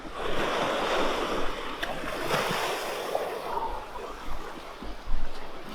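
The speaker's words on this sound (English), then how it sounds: "Sit and watch the sea over here. And just enjoy the waves." Sea waves wash onto the beach at Malpe in a steady, hissing surf, swelling and fading over several seconds, with one louder surge near the end and a little wind noise, and no voices.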